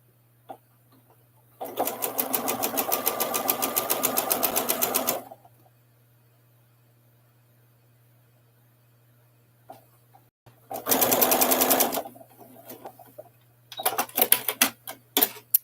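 Sewing machine stitching fabric pieces together in two bursts of rapid mechanical whirring and ticking, about three seconds and then one second, close and clear, with quiet pauses and handling clicks between them.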